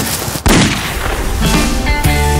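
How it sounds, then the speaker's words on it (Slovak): Gunfire in a Slovak crime TV drama: a loud sharp shot bursts out, followed by further blasts and dense action-scene sound, with no talking. "Lenka, strieľajte."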